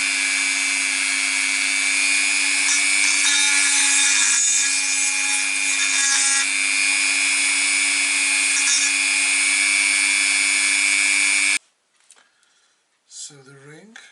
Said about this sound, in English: So I'm also sharpening on the inside.